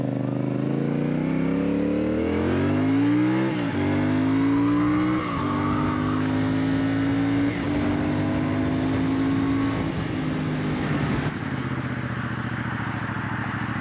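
CF Moto CL-C motorcycle engine under way, a steady loud drone that climbs through the gears with rising pitch, then settles at an even cruising hum before dropping off near the end, no speech.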